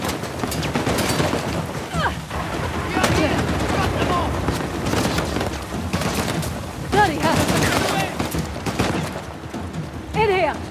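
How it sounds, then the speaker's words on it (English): Rapid bursts of gunfire and shots ring out during a firefight in Uncharted: The Lost Legacy, continuous and loud throughout, with characters shouting and talking over the shooting. "Shoot them!"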